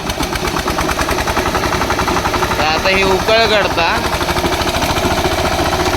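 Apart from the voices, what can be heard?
tractor engine running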